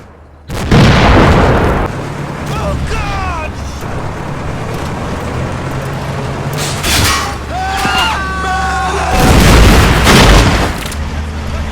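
Heavy machine gun and cannon fire from a German heavy armored car booms repeatedly in a chaotic video game battle, with a brief shouted exclamation and whistling projectiles between bursts.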